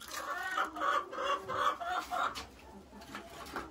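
Hens in a chicken coop clucking in quick, close bursts through the first half, then tapering to quieter scattered clucks, with no talking.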